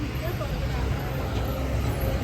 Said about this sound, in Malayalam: ഇഷ്ടംപോലെ വണ്ടികളൊക്കെ പോകുന്നുണ്ട്